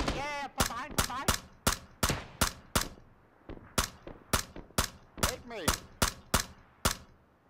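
SKS rifle fire in a video game, a steady series of about fifteen sharp, loud single shots spaced roughly half a second apart, with brief voice fragments between them.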